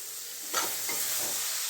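Mashed banana flower being stirred into spiced masala with tomato in a pan, a short, soft scraping and shuffling over a faint sizzling hiss.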